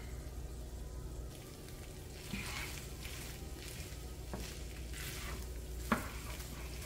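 Ground meat with cream cheese and Italian seasoning is stirred in a hot pan, giving a low, continuous sizzle with occasional soft scrapes and taps of the utensil against the pan.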